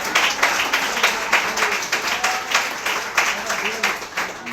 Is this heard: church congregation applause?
yes